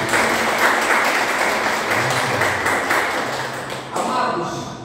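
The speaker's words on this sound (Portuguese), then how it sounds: "Você pode aplaudir o Senhor, amados?" A church congregation applauds during a family worship service, steady broad clapping sustained for several seconds with a voice speaking over it.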